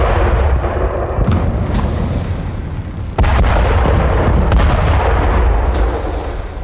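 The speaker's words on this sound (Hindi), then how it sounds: "आईडीएफ ने सिर्फ शुरुआती 30 मिनट में ही 100 से ज्यादा एयर स्ट्राइक कर साउथ गाजा को दहला दिया" Heavy bombardment from Israeli airstrikes in Khan Younis, south Gaza: loud, continuous rumbling blasts with repeated sharp booms, a sustained roar of explosions and no voices.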